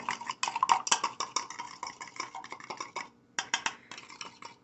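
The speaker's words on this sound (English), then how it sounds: "So I like to use a fork as a whisk, and I whisk that up really good." A fork whisks a mixture in a bowl with rapid, rhythmic clinking and scraping strokes, close and distinct, pausing briefly before resuming.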